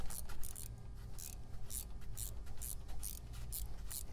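Nylon lock nuts on ProPride 3P hitch spring bars are tightened with a ratchet, producing a series of short, crisp clicking bursts in a steady rhythm, fairly faint over a low background.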